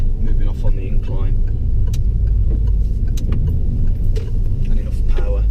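A car on a driving test route moves off on an uphill incline, its low engine rumble steady and close beneath someone talking continuously.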